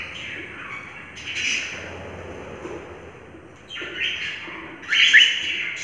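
Pet lorikeets in their new home squawk and chirp in short, shrill bursts, with a loud call near the end and quiet stretches between them.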